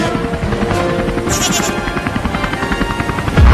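A helicopter's steady whirring drone fills the clip, loud and continuous, with a brief goat bleat near the middle.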